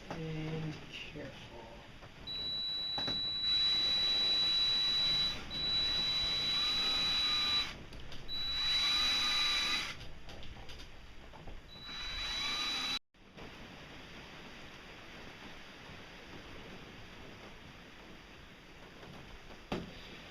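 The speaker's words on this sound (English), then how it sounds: "I'll drill a hole right through and put a pin in there" Power drill bores a hole through a wooden gear in a small wood shop, a loud steady whine in several long bursts with pauses, followed by quieter background noise.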